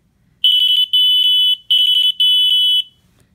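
Electronic buzzer playing a short tune at a faster rate, four shrill, piercing tones in quick bursts with brief gaps, close and loud, ending in near silence.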